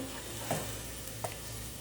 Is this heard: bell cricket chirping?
no